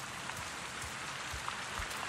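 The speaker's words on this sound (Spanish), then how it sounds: "Está lloviendo." Rain falls in the jungle world of the video game Avatar: Frontiers of Pandora, a soft continuous patter with scattered faint drips, steady and quiet throughout.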